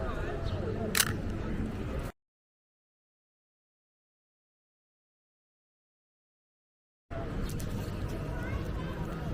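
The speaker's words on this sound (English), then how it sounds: "you will really like hearing the shutter sound on this camera" Pentax K1000 film camera shutter clicking once, a single sharp near click standing out briefly over a busy background of crowd chatter and street noise outside Marvel Stadium.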